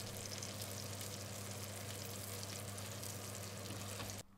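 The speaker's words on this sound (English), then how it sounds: "Next, carefully place your fish into the pan." Dover sole frying in butter in a hot pan, a steady, dense sizzle that holds loud and even for about four seconds before cutting off abruptly.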